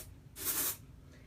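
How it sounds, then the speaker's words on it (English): A single burst of hair spray (a dry, powdery product) misted onto greasy hair, a bright hiss swelling and fading over about half a second with nothing else around it. "I just spray a little bit on like the greasy areas"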